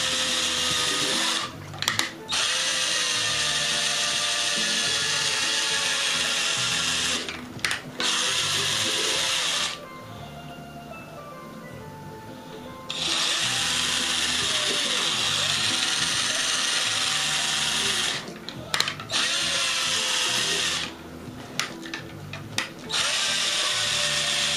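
A battery-powered drill runs in long whirring, ratcheting stretches with brief pauses, its battery running down during wine racking and degassing, close and loud with no voices.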